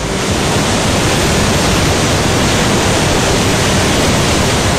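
A waterfall near Jagdalpur, India, swollen by flood water, rushes as a loud, dense, unbroken roar that fills the whole stretch.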